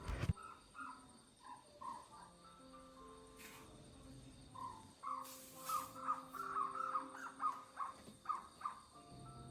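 Crows cawing outdoors near a forest, several calls spread through the quiet, with crickets chirring steadily underneath and birdsong rising in the latter half, moderately close and unaccompanied by talk.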